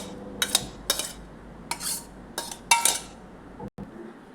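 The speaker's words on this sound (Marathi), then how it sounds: "याच्यामध्ये आपण हे जे कट केलेलं जे दहीच्या पाण्यात ठेवलं होतं त्यातलं पाणी काढून आपण सगळं मिक्स" Banana stem salad being mixed in a bowl with curd water drained from the cut pieces: several distinct clinks and scrapes of a utensil against the bowl in short bursts, close and clear with no talking.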